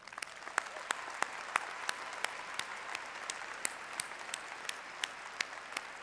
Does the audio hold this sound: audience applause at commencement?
yes